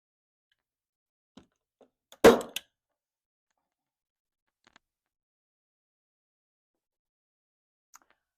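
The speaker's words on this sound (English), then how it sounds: "Sound of paper rustling." A single short burst of paper crinkling and rustling, close and fairly loud, with a few faint ticks and taps around it in otherwise near silence.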